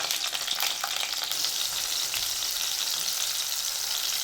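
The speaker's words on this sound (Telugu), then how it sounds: "అదే ఆయిల్లో 2 టమాటాలు కట్ చేసి వేయించుకోండి" Two cut tomatoes fry in oil for an Andhra-style dish, a steady, even sizzle that hisses continuously and fairly loud throughout, with no voices.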